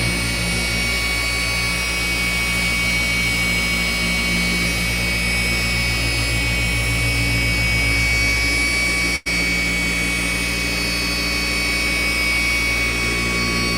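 Power polisher spinning around 4,000 RPM, moved slowly across a car panel, gives a loud, constant whine with a low drone, briefly dipping once midway before resuming steadily.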